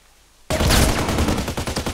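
A big gun firing in the online shooter Contract Wars: a loud sudden burst of rapid shots after a moment of quiet, continuing in a fast rattling rhythm.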